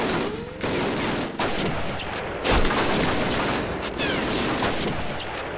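Automatic fire from a mounted machine gun in the World War II shooter Call of Duty, with dense rapid bursts and heavy booming shots layered continuously, loud and close, with no voices over it.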